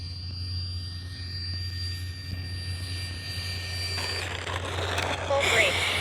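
Freewing F-22 Raptor high-performance 70mm RC jet in flight with gear and flaps down, a steady whining ducted-fan drone holding across the clip and swelling slightly louder near the end, heard from a distance outdoors.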